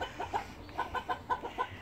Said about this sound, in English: You chasing one of the chickens.